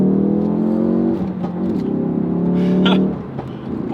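A Ford Focus RS engine revs hard through the gears, its note climbing and dropping, with brief exhaust crackles and pops as the throttle lifts.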